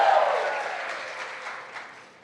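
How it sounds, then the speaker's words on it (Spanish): Applause from a church congregation during a Spanish-language sermon, a steady wash of clapping that starts strongest and slowly thins out over a couple of seconds, with no voices on top. "Alguien que dé un fuerte aplauso"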